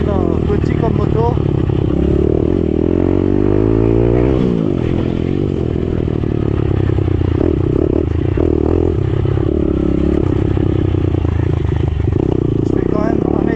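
A small 2022 Daytona SP3 190 motorcycle is ridden with a loud, steady engine drone and wind rush close up, and the engine pitch sweeps noticeably as it revs partway through.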